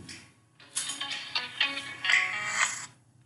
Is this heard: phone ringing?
yes